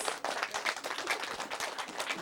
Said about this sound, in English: everybody give our Naughty Big Bad Wolf a great big round of applause